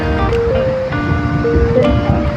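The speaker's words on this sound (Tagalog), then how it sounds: "mapapansin niyo po na sobrang lakas ng alon" Strong waves rolling in at a shallow beach near a lighthouse, a loud continuous wash of surf with wind buffeting the microphone and a faint tonal hum running through it.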